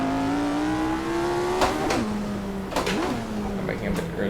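An F1 racing car's engine screams at Goodwood, its pitch climbing steadily, then bouncing off the rev limiter with sharp bursts between gears, loud and close from the cockpit.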